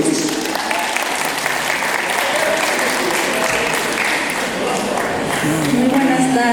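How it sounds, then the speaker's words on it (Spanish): Wedding guests applaud in steady, dense clapping that fills the room, a loud continuous ovation with a few voices faintly mixed in. "Recibamos con fuertes palmas"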